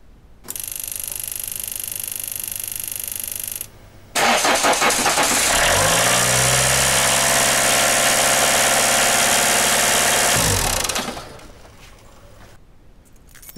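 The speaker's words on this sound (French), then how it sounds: "je vais faire un démarrage moteur, juste pour voir qu'il tourne correctement" A Renault Clio 2 with the 1.9 diesel F8Q engine cranks briefly, then fires and settles into a loud, steady diesel idle. It runs for several seconds before being switched off, with no talk over it.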